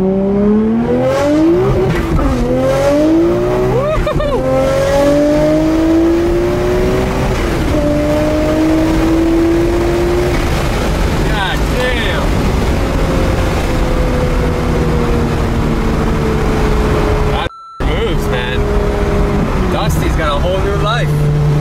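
Nissan Skyline R32 GTR with an HKS setup accelerating hard through the gears, engine pitch climbing in loud rising sweeps between shifts, heard from inside the car with a brief cut near the end.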